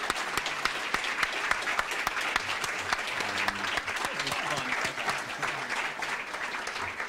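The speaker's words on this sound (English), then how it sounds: "let me ask for a round of applause for our two speakers tonight" Audience applause for two speakers at the close of an evening talk on the Constitutional debate, steady medium-density clapping sustained throughout with faint voices underneath.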